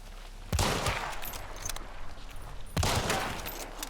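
Two sharp, booming shots from a Vetterli 71 Karabiner rifle in Hunt: Showdown, about two seconds apart, each followed by a rolling echo tail.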